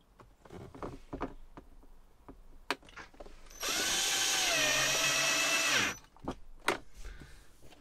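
A Ryobi cordless drill driving a screw into a VW T4 van whirs at high speed for about two seconds, spinning up and then slowing as it stops, with quiet clicks and handling noises before and after.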